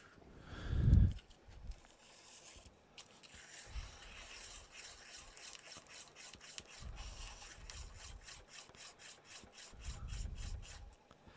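A burr is rubbed and rasped off a wooden pen blank for a skull pen, giving a steady close scraping with a run of quick regular strokes toward the end and a few louder low knocks.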